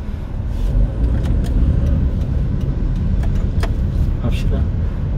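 A car accelerating during a driving test, heard from inside as a loud, steady low engine drone with a few faint clicks over it.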